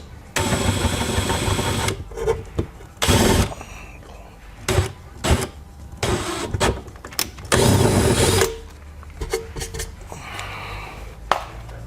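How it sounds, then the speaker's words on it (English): A 6mm bit drilling through plastic while fitting a scrub bar and feet guard on a Can-Am Defender: close, loud bursts of whirring drill noise in short repeated runs, separated by brief pauses and handling sounds. "we're going to drill it out with a 6mm bit"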